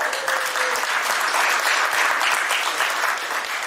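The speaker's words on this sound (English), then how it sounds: "A round of applause." Loud, dense applause from an audience as a prize winner is announced, many hands clapping in a continuous wash that holds at full strength throughout.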